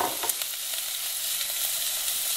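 Onion sizzles loudly in a hot pan, a dense, even hiss of frying that stays steady throughout, with a few faint crackles near the start.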